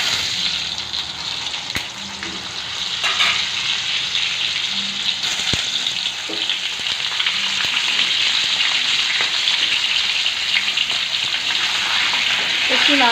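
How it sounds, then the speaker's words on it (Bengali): Pointed gourds (potol) frying in hot oil with a pinch of salt, a loud, steady crackling sizzle that builds slightly as it goes on, without speech. "পটলগুলোকে একে একে ছেড়ে দেবো"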